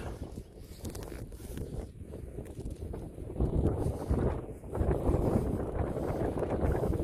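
Gusty wind buffets an open outdoor spot near a helipad overlooking Auckland and Rangitoto, a steady broadband rush that swells louder partway through, with no voices.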